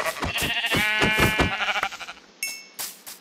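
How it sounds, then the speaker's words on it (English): Minecraft sheep in a survival game bleat repeatedly, several close, loud wavering calls in a row, followed by short game chimes and clinks near the end. "we've got our first sheep our second sheep"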